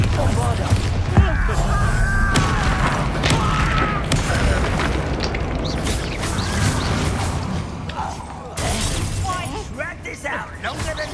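Confringo and Bombarda spell explosions in Hogwarts Legacy go off as a dense, continuous barrage of booms, crashes and shattering blasts, loud and close, with a voice talking and shouting over the chaos.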